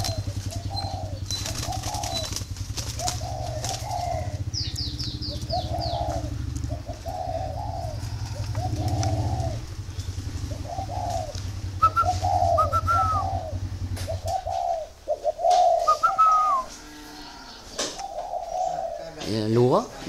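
Japanese-French turtle doves cooing at a breeding farm, a rhythmic series of soft, close coos repeating throughout, over a low hum that drops out partway, with a few higher whistles near the end.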